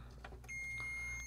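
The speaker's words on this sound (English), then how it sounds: "we have a beep and the meter reads good." A capacitor ESR meter gives a single steady electronic beep while testing a capacitor in the right channel of an SAE Mark Nine preamp, the tone starting partway through and holding at a moderate level over quiet background hum.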